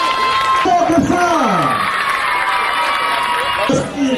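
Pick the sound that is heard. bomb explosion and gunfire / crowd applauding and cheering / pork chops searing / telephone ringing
crowd applauding and cheering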